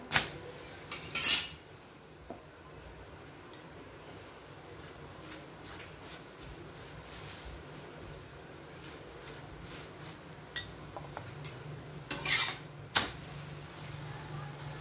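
A mung dal and coriander paratha brushed with ghee flipped on a pan, with a couple of clattering utensil knocks at the start and near the end over a low steady cooking hiss, close and otherwise quiet.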